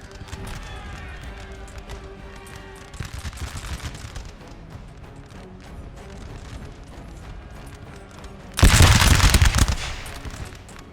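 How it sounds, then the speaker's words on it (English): Musket volleys crack across a Napoleon: Total War battlefield, a steady patter of distant gunfire with one loud, dense volley bursting out near the end. "You see all the lead bullets fly over the heads there."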